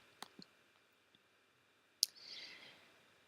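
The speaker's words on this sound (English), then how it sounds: "Then click OK." A single crisp computer mouse click stands out among a few faint, quiet clicks in a still room, with a soft brief rustle afterward.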